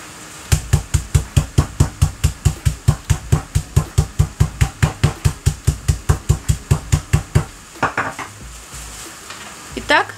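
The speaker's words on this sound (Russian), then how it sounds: "Теперь переворачиваем и с другой стороны тоже отбиваем." Pieces of meat are pounded with a mallet to tenderize them for French-style meat with potatoes, giving a fast, even series of about thirty loud thuds before the rhythm breaks into a few irregular knocks.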